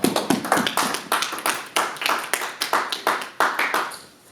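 A church congregation claps in acclaim to the Lord, a dense, steady burst of many hands clapping in a brisk, slightly uneven rhythm, with sharp accents throughout.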